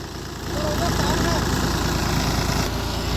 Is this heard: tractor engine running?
yes